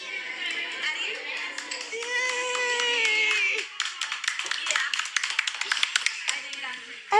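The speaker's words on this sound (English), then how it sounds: "Everyone claps for her." An audience at a Disney park claps for a young girl, quick scattered hand claps building into a dense patter, with a voice talking over the first half.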